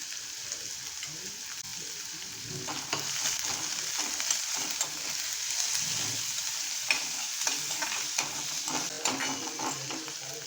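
Onion frying with carom seeds and curry leaves in a pan, a steady close sizzle running throughout with scraping stirs and small clatters on top.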